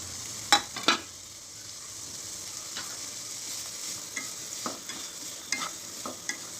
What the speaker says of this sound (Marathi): यात आपण वाफून घेतलेली केळफुलाची भाजी टाकून घ्यायची